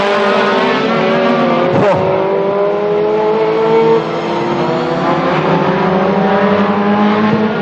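Race cars lapping a circuit at a Rolling Thunder show finals, engines roaring steadily loud and close with rising and falling pitch as cars accelerate and pass, one sharp burst near the start.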